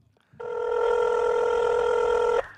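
A single telephone ring tone sounds for about two seconds, a steady loud electronic warble with sharp start and stop, surrounded by faint background hiss.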